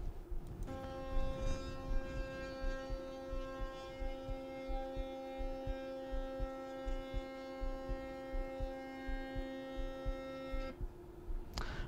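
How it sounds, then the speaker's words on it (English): A Haydon Kerk linear actuator driven by a stepper motor extends in full step mode, a steady tonal whine with a pulsing vibration that starts abruptly, holds for about ten seconds and stops cleanly, close and fairly quiet. "that move was a bit loud due to the vibrations in the motor while stepping"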